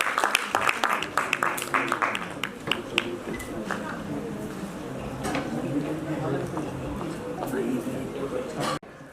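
A crowd at an honorary PhD convocation applauds to welcome the society registrar: a burst of loud clapping that settles into steadier applause, with voices talking over it.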